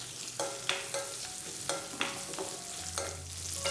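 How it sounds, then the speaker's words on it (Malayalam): Shallots, green chili and cumin sautéing in a pan for Kerala-style idli kurma: a steady low sizzle broken by repeated scraping stirs at a regular rhythm, close and moderately quiet, no talking. "അപ്പോൾ ഇത്രയും ചേർത്ത് കൊടുത്തതിന് ശേഷം വീണ്ടും നന്നായിട്ട് എല്ലാം ഒന്ന് വഴറ്റിയെടുക്കുകയാണ്"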